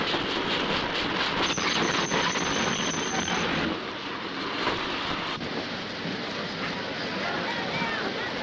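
A train at a railway station platform gives a steady, broad rumbling hiss that fills the scene, easing slightly partway through, with voices faintly present.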